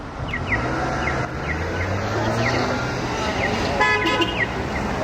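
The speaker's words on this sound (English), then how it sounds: "We've got a lot of honk already." Street traffic with cars passing and occasional honks as drivers sound their horns in support of Japan in Vancouver, steady road noise throughout with faint bird chirps.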